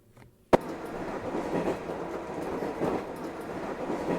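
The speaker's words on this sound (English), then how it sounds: "The inside of the car was calm and shaky and had this annoying train noise blasting into my ears." Train interior ambience from the visual novel game Memories Off: after a brief quiet moment, a sudden onset gives way to a continuous rumbling, rattling carriage drone that stays loud and steady.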